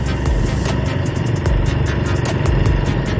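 A motorcycle engine runs steadily close by on a plantation track, a rough continuous drone with slight rhythmic pulsing and no talk.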